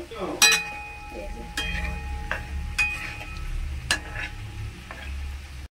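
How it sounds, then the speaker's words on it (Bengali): Spice paste sizzling in oil in a pan while a spoon stirs it, giving a continuous close fry punctuated by repeated scraping strokes and light metallic clinks. "মশলাটা খুব সুন্দর করে ভাজা হয়ে গেছে, তেলও ছেড়ে দিয়েছে।"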